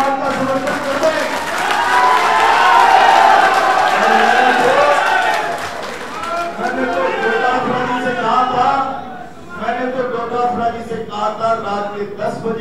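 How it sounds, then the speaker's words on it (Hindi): A crowd at a Congress party gathering in Rajasthan claps and cheers in support, loud sustained applause mixed with shouts and chatter that gradually fades into murmuring voices. "आज जितने भी लोग हैं एक बार ताली बजाकर इस बात का समर्थन करते हैं"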